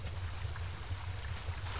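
Steady rushing flow of a cold river in a forest video game, a continuous low wash with no distinct splashes.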